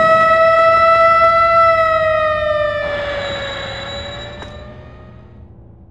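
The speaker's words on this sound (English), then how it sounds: "Arriving on track 1 is a local train bound for East Senjo." A train arrives at a station in the video game Robot Alchemic Drive: a loud, sustained horn-like tone shifts pitch midway and then slowly fades out.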